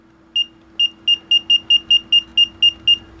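A rapid series of eleven short, high electronic beeps from a Brymen BM786 digital multimeter on button presses, evenly spaced and close, over a faint steady hum.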